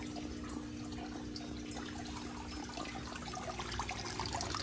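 Water pours steadily out of a ceramic filter on a carp pond, a continuous gentle splashing and trickling at low level with no talk.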